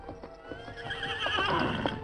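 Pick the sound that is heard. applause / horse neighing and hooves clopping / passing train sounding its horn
horse neighing and hooves clopping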